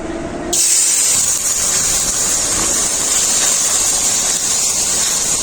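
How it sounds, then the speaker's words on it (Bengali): Liquid milk hits a hot wok and erupts into a sudden loud hiss that holds as a dense, steady sizzle for several seconds, close up, with no talking. "কড়াইয়ের মধ্যে দিয়ে দেব লিকুইড দুধ"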